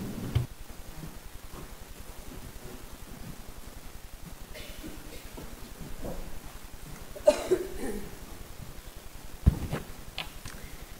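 Two or three sharp coughs break through a quiet room with steady low background noise. One lands mid-clip and another near the end, with no talking.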